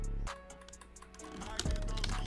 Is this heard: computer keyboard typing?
yes